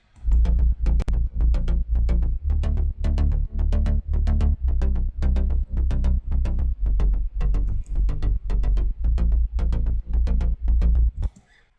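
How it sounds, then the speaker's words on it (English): Song section with a big bass and rolling bass line under steady driving drums, loud and continuous with regular pulsing hits for about eleven seconds before stopping abruptly. "and this time with a rolling bass line underneath"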